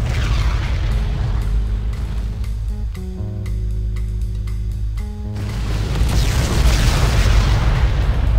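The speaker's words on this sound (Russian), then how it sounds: "Смотрим фейерверк." Booming fireworks bursts in The Godfather II video game, a loud continuous rumble of detonations with a brief tonal mechanical stretch in the middle, no talking.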